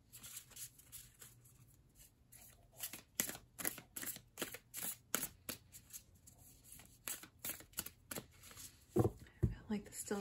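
Soft, rapid flicking and riffling of oracle cards being shuffled close by, in uneven bursts, with a brief low murmur near the end.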